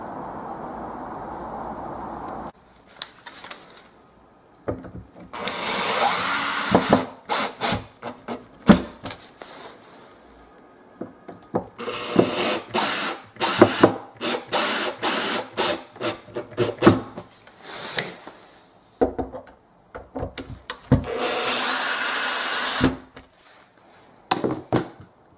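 A power drill drives self-drilling screws into a hardwood weather bar on an exterior door, with several loud whirring bursts of varying length separated by short pauses and a few clicks.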